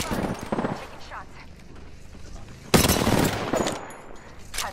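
Gunfire in Apex Legends, a quick spatter of shots early, then a loud burst of automatic fire with scattered follow-up shots, under occasional talking.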